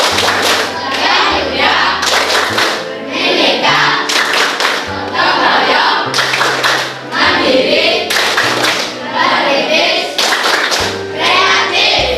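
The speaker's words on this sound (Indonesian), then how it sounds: "Tepuk profil pelajar Pancasila." Students in a junior high school English class clap the rhythmic Pancasila student profile chant, with bursts of loud group clapping and chanted voices repeating in a steady pattern, close and filling the room.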